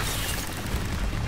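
A Bombarda explosion spell in the video game Hogwarts Legacy, a continuous rumbling blast with broad crackling noise that fills the whole moment at steady loudness.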